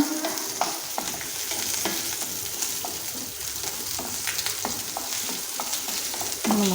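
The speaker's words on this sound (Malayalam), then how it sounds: "പതുക്കെ ഒന്ന് വഴറ്റിയെടുക്കുക" Ingredients being slowly sautéed and stirred in a pan for a roasted-coconut sambar, with a steady close sizzle and irregular light scrapes and taps of the spoon, and no voices.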